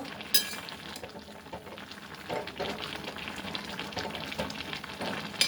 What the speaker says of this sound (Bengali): এবার ঢাকাটা খুলে একটু উল্টো পাল্টা দেবো।